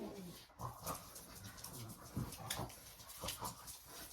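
Excited dogs whimper and whine in short, uneven bursts, fairly close, with soft scuffling and a busy indoor background.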